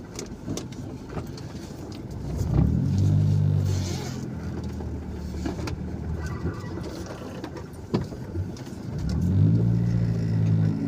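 A car engine rumbles and revs in two swells while parking beside a mosque on an Indonesian provincial road, with a steady low drone between the rises.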